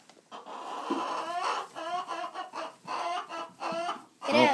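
A hen clucks repeatedly at close range in short, rhythmic bursts of harsh calls, ending with a louder squawk.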